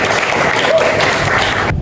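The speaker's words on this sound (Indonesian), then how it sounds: "tepuk tangan untuk Devira" A classroom of students applauds at a vocational high school, a steady dense patter of clapping filling the short moment before cutting off abruptly near the end, with some murmuring voices underneath.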